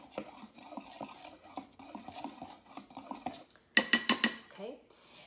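Dry baking ingredients, including baking soda, are stirred with a dough whisk in a bowl, giving soft rhythmic scraping and rubbing that closes in a brief burst of louder metallic clinks and taps.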